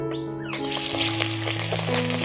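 Chopped carrot hits hot white oil in a kadai and breaks into a loud, continuous sizzle close by, a bright frying hiss that holds steady throughout.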